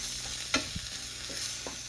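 Meat and onions frying with tomato paste in a pot for a home-style Turkish meat and potato stew, a steady close sizzle broken by a few stirring scrapes, with no talking.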